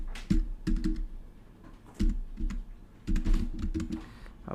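Fingers typing on a computer keyboard while entering code, bursts of quick clicking keystrokes in short clusters separated by brief pauses, close and clear with no voice.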